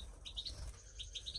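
A British goldfinch gives a few quick, high chirping notes in two short bursts over a soft background hum.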